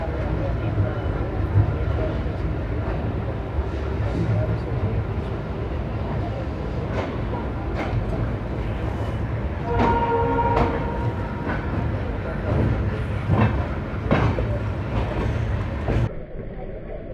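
Ashram Express train at a station preparing to depart, a steady low rumble with intermittent clanks and a brief horn-like tone midway, with people talking throughout.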